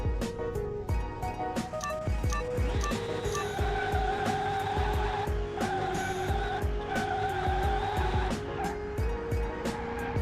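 A supercharged 1000 HP C1 Corvette's wheels spin and lose traction at a quarter-mile launch, with a loud, revving engine roar and screeching tire squeal sustained across the run.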